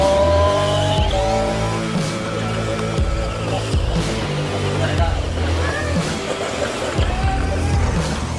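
Small RC cars, including a 4x4, race along a mini highway track with whirring motors and squealing tires, under excited, constant talking and shouting.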